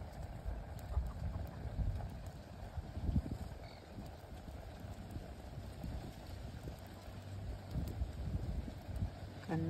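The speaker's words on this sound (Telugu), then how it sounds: "ఓపెన్ ప్లేస్ కనుక గాలి బాగా వస్తుంది." Wind gusting around an open-air wood-fire stove where rice is cooking in the morning, heard as a faint, low rumbling buffet on the microphone with soft crackles and knocks.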